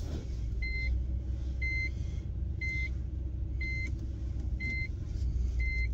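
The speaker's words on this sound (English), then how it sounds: "Trying to back this out of the garage without hitting anything" A car reverses out of a garage, its engine idling low and steady while a reverse-parking sensor beeps in evenly spaced pairs of tones, close and clear with no talking.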